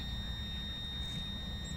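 After a coil change to a larger coil, a metal detector gives a faint, steady high-pitched squeal, a continuous whine held over low background rumble with no talking.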